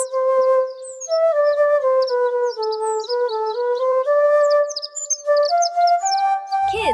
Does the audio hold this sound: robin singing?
yes